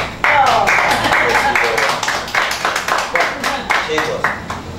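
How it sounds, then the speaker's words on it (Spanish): Audience clapping and applause at a stage show by a music and performance group, a dense burst of many hands that starts abruptly and continues steadily for several seconds, loud and close. "Aplausos, chicos."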